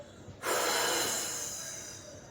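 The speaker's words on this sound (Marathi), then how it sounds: "श्वास भरत आणि श्वास सोडत सोडत" A person doing a morning belly-fat floor exercise, lying with feet held together and raising the legs, takes one loud, close, airy breath that swells suddenly and then fades slowly over about two seconds.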